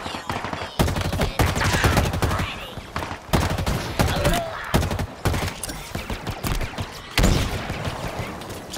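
Rapid gunfire bursts from the Halo Infinite campaign on Xbox Series X, loud automatic weapon volleys and shots in repeated clusters with brief gaps, mixed with game effects.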